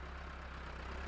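A tractor engine idles at a level crossing, a steady low rumble with a constant throb, close and even throughout with no voices.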